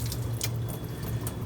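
Water runs steadily from a tap over a lobster being rinsed, a continuous close splashing stream with faint dripping and no talk.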